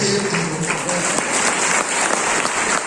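Sustained audience applause filling a hall, a dense, steady roar of many hands clapping at close range with faint voices underneath.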